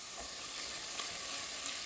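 Chile relleno filling sizzles steadily as it fries and is stirred in a pan, a continuous close hiss without pauses or voices.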